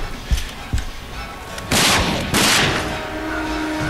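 Gunfire from the video game RAGE comes as a few sharp single shots, then two heavy roaring bursts up close that fade into a lingering rumble.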